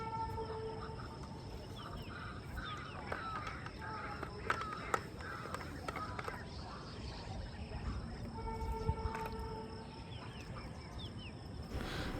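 Birds call in a calm early-morning setting, with crow caws and chirps scattered over a faint background of insect trilling and soft ambient hum, distant and fairly quiet.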